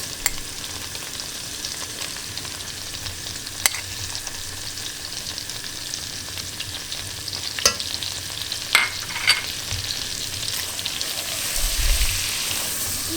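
Cornmeal stirred into melted butter in a pan, sizzling and frying steadily with scraping stir strokes and a few sharper clinks, growing louder near the end; no voices.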